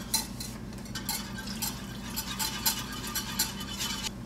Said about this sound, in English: Keep whisking that in there